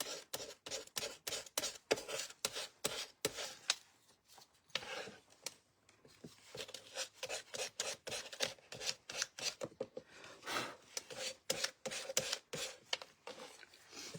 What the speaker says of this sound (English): So now I'm just going to sand this.